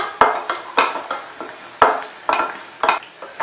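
Cashew nuts fry in a pan as a utensil stirs them, giving loud close scrapes and tosses in an uneven rhythm over a soft sizzle.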